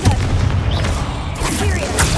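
A Confringo fire curse bursts in the Hogwarts Legacy video game, a loud booming explosion with dense crackling energy lasting about two seconds, with game noise running throughout.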